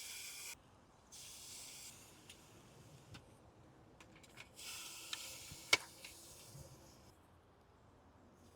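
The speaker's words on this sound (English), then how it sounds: "Hear that sizzle?" Soft, steady sizzling hiss of jerk chicken cooking skin side down on a hot oiled grill, rising and falling in bursts with a few small pops, no voices.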